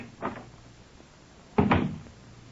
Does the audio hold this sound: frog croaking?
no